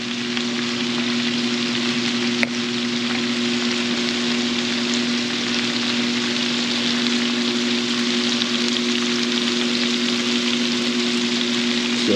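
Southern-style cabbage fries in a pan with a steady, even sizzle that holds for the whole stretch, with a faint clink near the start and no talking.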